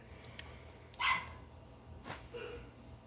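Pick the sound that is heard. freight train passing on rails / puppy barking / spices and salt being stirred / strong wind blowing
puppy barking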